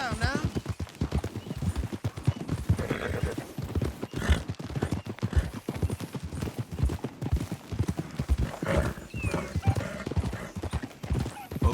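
Horse hooves clip-clop steadily and close in a Red Dead Redemption 2 ride, with a horse neighing now and then, all under ongoing talk and game ambience.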